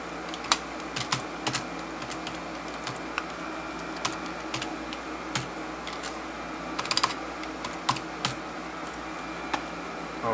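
Someone types a name on a computer keyboard while setting up a Kangaroo PC, with sparse, close key clicks arriving in short irregular bursts over a low steady room hum.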